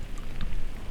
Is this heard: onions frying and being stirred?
no